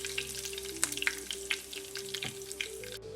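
Curry leaves crackling in hot oil just after the stove is switched off, a tempering for grated mango pickle: a steady sizzle with sharp pops scattered throughout, close and fairly quiet, no voices.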